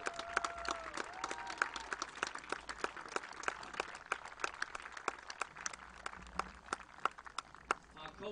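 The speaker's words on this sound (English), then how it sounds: "Can we please give one more round of applause to all of our seniors" Audience at a high school football game between Cranston West and Bishop Hendricken applauding the seniors, a scattered crowd of claps under a speaker's amplified voice, moderately distant.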